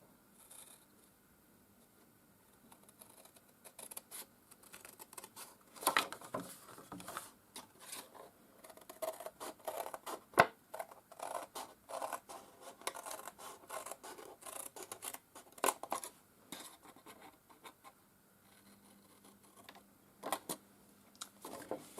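Scissors snip through paper to cut the tabs of a pop-up structure, giving repeated close rasping cuts in irregular bursts with brief pauses, no talking over them.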